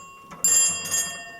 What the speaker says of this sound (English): Maybe the call here was 2 bells like this.